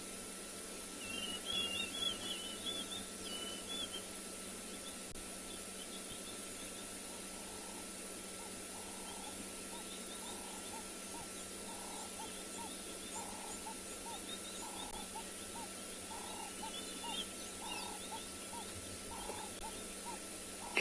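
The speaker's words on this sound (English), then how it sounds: "Lots of sweet sounds of birds calling." Dawn chorus in Kalahari savanna at sunrise: a steady high insect drone runs throughout while distant birds give soft repeated calls and short chirping phrases, all faint and far off with no talking.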